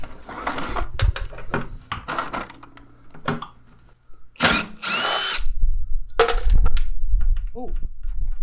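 A power drill drives small Torx hold-down bolts inside a van during bulkhead and headliner removal, in several short close whirring bursts separated by pauses, with clanks of metal and tools between them.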